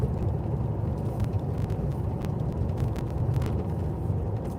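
Steady low road rumble of a car being driven, continuous engine and tire noise from inside the cabin with no talking over it.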